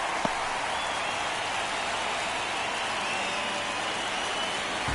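Steady stadium crowd roar from a ninth-inning MLB The Show 24 baseball game, Orioles versus Yankees, a broad continuous wash of cheering noise at even loudness throughout with no clear talk.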